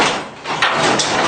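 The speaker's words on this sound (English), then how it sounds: "So I'm just going to lift the door up a few inches." An insulated garage door is lifted a few inches by hand, giving a broad, steady rumbling slide with a couple of swelling scrapes partway through, heard close up with no talking.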